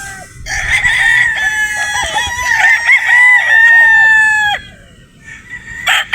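A rooster crows loudly and close by, one long drawn-out call followed by a shorter burst, with clucking and farmyard bustle around it.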